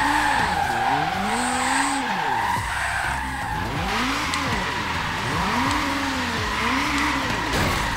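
In the Forza Horizon 3 racing game, a Porsche drifts with continuous tire squeal and skidding while its engine revs rise and fall in repeated sweeps, loud and close with no voices.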